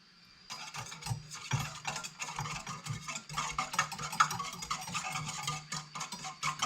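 A stand mixer with the paddle attachment stirs a yeast mixture. Its motor starts after a short quiet moment, then runs with a busy, uneven mechanical whir and clatter until the end.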